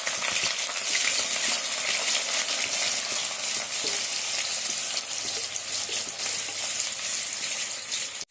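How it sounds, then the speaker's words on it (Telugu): Chopped onions and cumin seeds frying in oil, a loud, steady hiss of sizzling with faint stirring scrapes throughout, heard up close without any talk. "ఉల్లిపాయలు బాగా మగ్గేంత వరకు వేయించుకుందాం."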